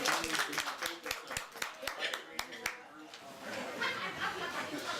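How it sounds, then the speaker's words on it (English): A small audience at a Kwanzaa celebration claps briskly for a few seconds, then the applause fades into murmured chatter and soft laughter. "Give a round of applause."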